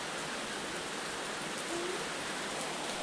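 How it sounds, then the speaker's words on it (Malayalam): Heavy evening rain pours down in a steady, even hiss with no breaks, soft and constant throughout. "നല്ല മഴയാണ് ഗൈസ്."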